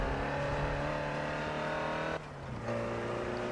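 Diesel race car engine in the R4G racing video game, a loud steady drone with harmonic tones that drops briefly as it shifts gear, then pulls on again, with no talk.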